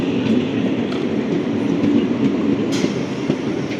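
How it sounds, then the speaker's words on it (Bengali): A Bardhaman local train pulls into Pandua station, a loud, continuous rumble of rolling wagons with rhythmic wheel clatter and no voices over it. "বর্ধমান লোকাল আসছে এখন।"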